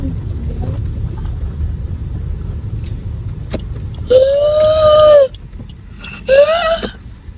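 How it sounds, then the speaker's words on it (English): Road traffic with cars driving in Johannesburg, South Africa, heard from inside a moving vehicle: a continuous low engine and road rumble, broken by two drawn-out, high tonal sounds near the end. "Yeah, it's traffic. Yeah, so many cars."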